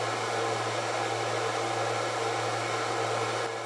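A drill turning a Forstner bit through 3/4 inch plywood at higher speed than suited to the bit size, a loud, steady, close whirring hiss that holds without a break for several seconds.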